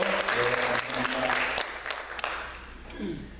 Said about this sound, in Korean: 우리 한번 박수합시다